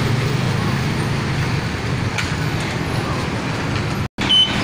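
Richport Bus Lines minibus on the Santo Rosario route going by on a roadside in Kawit, Philippines: a steady loud rumble of engine and tyres among road traffic, cut briefly near the end.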